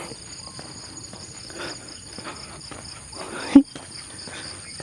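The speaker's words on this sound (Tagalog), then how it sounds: "Mga kuliglig." Crickets chirp steadily in a quiet outdoor setting, a faint continuous trill with a brief sharp knock partway through.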